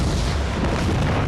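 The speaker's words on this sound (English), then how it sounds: "And an explosion rips through its core." An explosion rips through the core of the Humberto Vidal building, heard as a loud, sustained, rumbling roar with heavy low-end boom that fills the whole brief moment.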